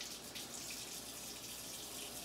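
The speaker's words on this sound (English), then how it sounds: "So what you want to do is have your water on." Water runs steadily from a tap at a comfortable temperature, a continuous close hiss and splash with no pauses and no talking.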